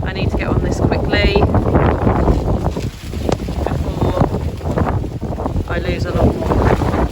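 Strong gusty wind buffets the microphone over an allotment plot in August, a loud, continuous roar that rises and falls, with someone talking over it.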